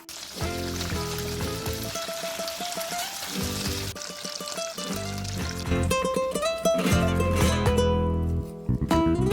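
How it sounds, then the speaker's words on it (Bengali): Bata fish frying in hot oil give a steady, continuous sizzle that sits underneath prominent background music. "একইভাবে বাকি মাছগুলোও ভেজে নেব"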